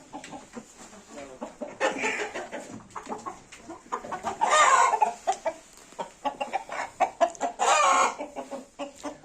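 Chickens and roosters in a crowded coop cluck loudly and repeatedly in quick, uneven bursts, with a rooster's crow rising twice amid the close flock chatter.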